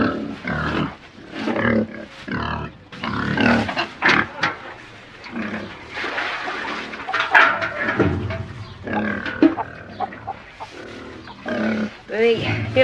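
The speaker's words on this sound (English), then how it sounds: "You like pigs, Inspector?" Pigs grunt and snort repeatedly at close range on a farm, mixed with rustling and other animal noises throughout.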